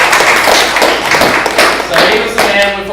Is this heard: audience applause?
yes